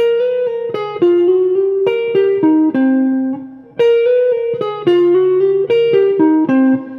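An electric guitar plays a flowing legato lick in an even rhythm, notes sliding smoothly into one another with a clean, ringing tone.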